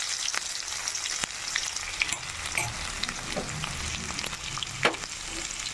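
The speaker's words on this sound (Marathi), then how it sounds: "कांदा फ्राय झालेला आहे. त्याच्यामध्ये हे लसूण जिरं ठेचलेलं ॲड करते." Crushed garlic and cumin hit hot oil with fried onion for a sweet-mango vegetable dish, giving a steady crackling sizzle with scattered pops and a few stirring scrapes, close and moderately quiet throughout, no voices.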